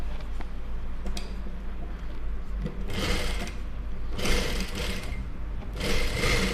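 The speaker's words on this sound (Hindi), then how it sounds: "अब यहाँ पर हमें किनारे किनारे सिलाई चलानी है" A sewing machine runs stitches along the edge of a fancy neck design in fabric, its motor whirring steadily in several bursts, each lasting a second or more, with brief lulls between them.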